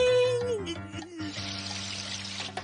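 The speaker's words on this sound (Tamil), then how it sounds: "ஃபவுண்டன்ல தண்ணி வர ஆரம்பிச்சிருச்சு." Water starts gushing from a fountain in a Shinchan cartoon, a steady hissing flow rising after a brief tone and continuing under voices.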